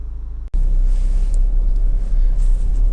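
A Honda Civic 1.6 i-DTEC SR diesel five-door runs with a steady low engine rumble and some wind noise, after a brief dropout at the start, with no talking.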